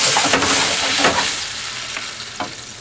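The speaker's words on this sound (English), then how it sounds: "We're going to add our white wine." White wine poured into a hot pan of shrimp sets off a loud, steady sizzle that gradually softens, with a few faint clinks and stirs close by.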